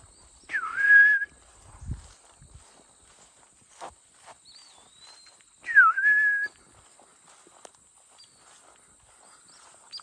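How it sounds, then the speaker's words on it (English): Outdoors, a wild bird gives two separate clear whistled phrases several seconds apart, each a quick rising-and-falling note, with soft footsteps and rustling in the quiet gaps. "Trying to identify this bird that keeps mocking me."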